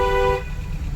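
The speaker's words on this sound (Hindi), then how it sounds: "इसको हॉर्न बजाओ लंबा" A car horn honks once, a loud close blare lasting under half a second before cutting off, leaving low engine rumble.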